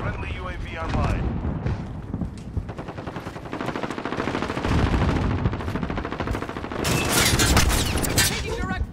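Video game gunfire with automatic bursts and rapid shots, loud and near, running almost without pause under radio-style voice callouts, building to a dense, harsh volley near the end.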